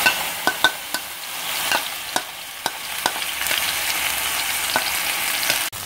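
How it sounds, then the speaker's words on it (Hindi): Marinated chicken pieces frying in about a tablespoon of oil in a pan, giving a steady crackling sizzle with repeated sharp clicks and scrapes of stirring, no voices. "अब मैं इसको ऑयल में जो है वो डाल रही हूँ।"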